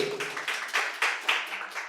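A crowd applauds a correct answer at a quiz competition at Santiniketan Medical College and Hospital. The clapping is steady and fairly close, swelling in regular waves for about two seconds before stopping abruptly.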